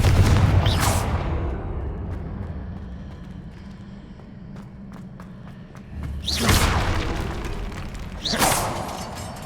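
Confringo fire spell blasts in Hogwarts Legacy, a loud whooshing boom at the start and two more heavy bursts near the end, with quieter rumbling and faint impacts between.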